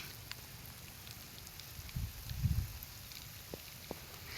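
A high-pressure motor-driven hose sprinkler spraying water over a farm's greens like falling rain, a faint steady hiss with a brief louder patter in the middle and a few soft knocks.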